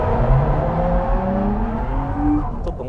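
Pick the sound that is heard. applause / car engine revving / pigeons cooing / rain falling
car engine revving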